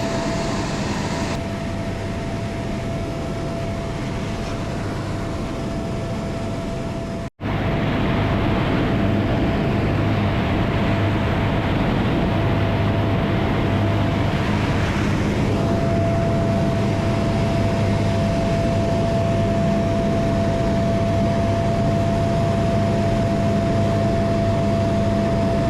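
Steady broadband drone of a small aircraft engine in flight over Alaskan glaciers, continuous and loud throughout with a constant tonal hum, briefly cutting out for an instant near the middle before resuming.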